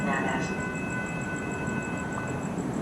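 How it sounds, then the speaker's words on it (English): A CSX freight locomotive running engine light passes the Osceola Parkway station at night, giving a steady rumbling roar with a high pulsing warning tone and faint tonal lines above it. "running engine light past me at the Osceola Parkway station toward Poinciana"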